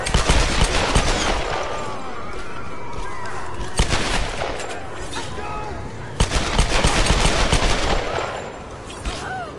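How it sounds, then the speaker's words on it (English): Shotgun blasts and other gunfire crack repeatedly in Tomb Raider, loud and close in a dense game mix, with a voice talking over the action. "Shotgun."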